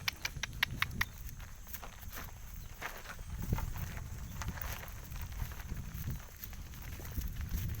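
Horse hooves clip-clopping at a steady walking pace as a lone rider moves along outdoors, with a sharp run of clicks at the start and then continuous rhythmic thuds under low rumbling background noise.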